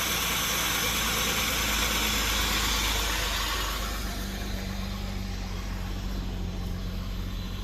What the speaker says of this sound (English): It's idling, it's not revving.